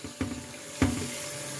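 Water runs steadily from a tap into a pot for steaming cabbage, a continuous close rush with two brief splashing knocks.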